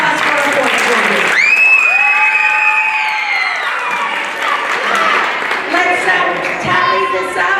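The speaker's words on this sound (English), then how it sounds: "And a round of applause for our fourth graders." An audience applauds fourth graders at a school history event, loud sustained clapping mixed with cheers and children's shouts and whoops throughout.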